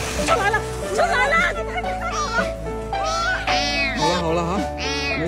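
A cat meows over and over, close by, in a run of drawn-out, rising and falling cries that fill the whole stretch.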